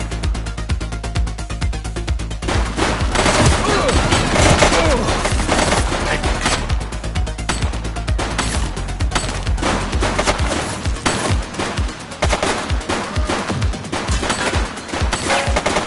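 Loud, dense gunfire in the police game The Precinct, rapid shots in clustered bursts that thin into scattered, sharper single cracks near the end, with faint voices underneath.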